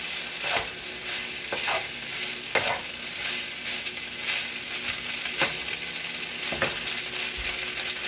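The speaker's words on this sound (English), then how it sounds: "And slowly stir fry a little bit." Tom yam seafood pasta is stir-fried in a pan with a constant bright sizzle, broken by periodic scraping and tossing clicks from the spatula, close and loud with no talking.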